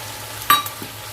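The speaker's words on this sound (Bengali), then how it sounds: "একটা গোটা পেঁয়াজ সেটাকে অ্যাড করে দিচ্ছি" A whole onion dropped into hot oil, giving a brief sizzling clatter and a faint second tap over a low background hum.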